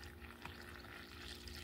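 Water poured into a mixing bowl of vegetable ukoy batter with dried shrimp, a soft continuous trickle heard faintly and close, with no talk.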